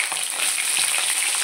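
Cauliflower hitting hot oil and being stirred makes a loud, dense sizzle and crackle, with faint scraping from the stirring under it, close up and without talk.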